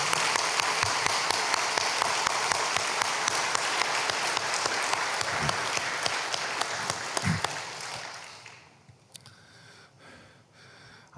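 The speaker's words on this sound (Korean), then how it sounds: "뜨거운 박수를 한번 보내도록 하겠습니다" A church congregation gives a long, warm round of applause, dense steady clapping that fills most of the moment before tapering off into a few scattered claps and quiet room noise.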